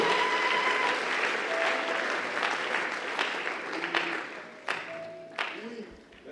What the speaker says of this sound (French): Nous acclamons cela avant de tout.